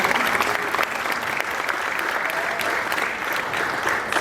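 Sustained applause from an audience at an Africa Day celebration at Parliament in 2023, a dense, steady clatter of many hands clapping together throughout, fairly loud and even, with no talking over it.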